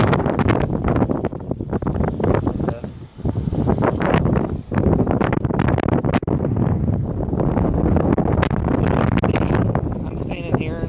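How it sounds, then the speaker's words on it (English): Strong gusting wind from Hurricane Florence buffets the microphone in an empty parking lot with trees and rain, a loud continuous roar with brief lulls, while someone talks over it. "the wind is really picking up from time to time"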